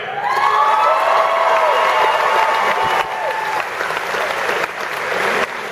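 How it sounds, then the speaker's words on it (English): An audience applauds steadily for a comedian being introduced on stage, with cheers and whoops rising over dense clapping that stays loud for almost six seconds and eases only slightly near the end. "Let's hear it for Tony Kim."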